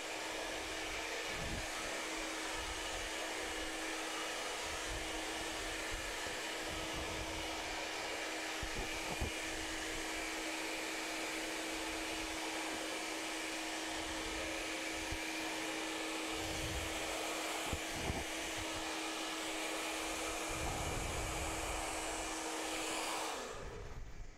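A hair dryer runs steadily at medium heat while drying hair after a smoothing treatment, a continuous close whooshing hum with a faint motor whine, shifting slightly as it moves, with no talking throughout.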